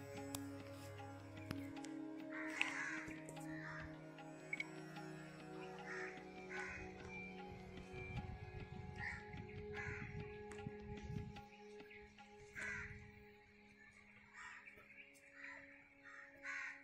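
Crows caw repeatedly in scattered calls at a moderate distance around an old riverside temple, over a faint steady outdoor background with occasional distant voices.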